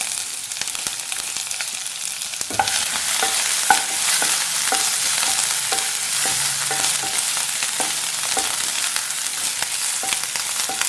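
Green chilies and curry leaves sauté in oil in a pan for a crab masala curry with ginger and garlic, making a loud continuous sizzle broken by a regular series of sharp clicks from stirring.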